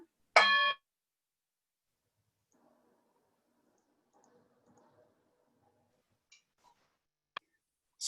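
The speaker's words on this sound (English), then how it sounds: "I'm going to go ahead and ring us to order here. Once again, I'm using my daughter's Nepalese Himalaya" A small Nepalese Himalayan bell is struck once to open a meeting, giving a short bright ringing tone with clear overtones, followed by near silence with faint room noise.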